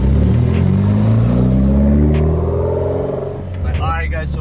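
A Mitsubishi Evo X GSR pulls away as its engine revs up through rising tones and then eases off, heard loud and close from inside the car with a rumbling low end.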